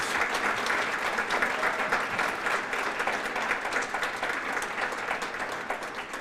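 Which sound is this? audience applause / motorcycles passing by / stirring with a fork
audience applause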